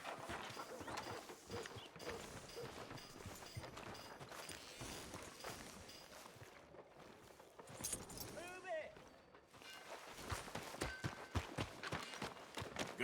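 Horse hooves clip-clopping in Red Dead Redemption 2, a steady rhythmic patter of hoofbeats with jangling tack, mid-distance under spoken dialogue.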